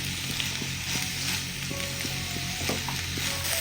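Onion and potato soften in a pan over low to medium flame, giving a soft, steady sizzle with occasional scrapes and taps of stirring in the pan.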